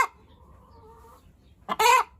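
A backyard hen clucks nearby, first a soft drawn-out murmur, then a loud, sharp squawking burst near the end, with no talking.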